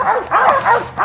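A hunting dog barks in quick repeated bursts, loud and close, during a South Texas hog hunt with dogs in brush country.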